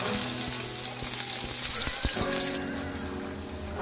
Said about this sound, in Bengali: তেল গরম হয়ে গেলে এখন রসুনের কলিগুলো দিয়ে দেব